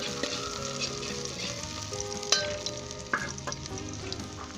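Ginger, garlic and onion, already golden brown, fry in a pan with cumin added, giving a steady close sizzle with a few sharp pops and clinks of stirring, no voices.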